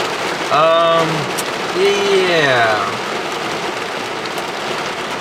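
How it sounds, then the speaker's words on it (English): Heavy rain falls on a nature reserve, a steady, loud wash of hiss that runs through the whole stretch, with a voice and a few bird calls on top. "I'm gonna wait a little bit because usually heavy rains don't last long"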